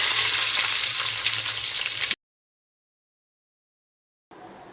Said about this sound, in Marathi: कांदा मस्तपैकी लाल होईपर्यंत परतून घेऊया आपण फास्ट गॅसवरच कांदा परतायचा